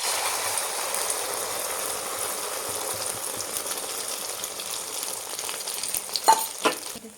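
Hot oil fries a beaten egg and potato omelette mixture in a pan with a steady, close hiss. A couple of brief clatters come near the end, and no one speaks.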